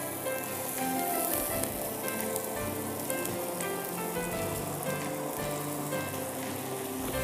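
Onions sautéing in a pan make a dense, even sizzle like light rain. The hiss holds at a constant moderate level with no talk over it.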